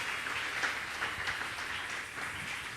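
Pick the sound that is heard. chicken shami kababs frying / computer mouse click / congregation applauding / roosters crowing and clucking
congregation applauding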